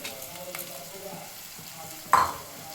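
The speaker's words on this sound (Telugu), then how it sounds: "ఇప్పుడు టమాటా వేసేస్తున్నాం. ఇప్పుడు పెసరపప్పు యాడ్ చేస్తున్నాం." Tomato and moong dal frying in a pan, a soft sizzle with scraping stir strokes and one sharper clatter near the end; fairly quiet, no talking.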